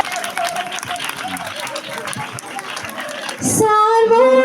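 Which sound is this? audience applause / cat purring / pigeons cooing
audience applause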